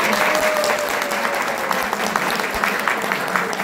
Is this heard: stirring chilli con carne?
no